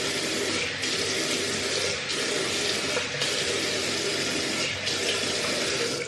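Tap water runs steadily into a bathroom sink while a face is rinsed clean of shaving gel, a continuous close rush with brief dips as hands cup and splash the stream.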